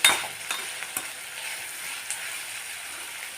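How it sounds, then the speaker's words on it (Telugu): Onions and green chillies frying in a pan with tempering spices, a light sizzle under soft stirring scrapes and occasional utensil clicks, fairly quiet and close. "ఉల్లిపాయ పచ్చిమిర్చి వేగాలి."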